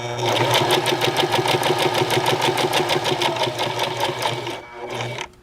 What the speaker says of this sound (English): And now that I've turned the fabric with the needle still in, I can go down the other diagonal edge.